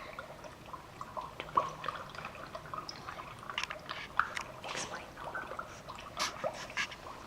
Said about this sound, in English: So the bubbles is the dry ice coming up as a gas.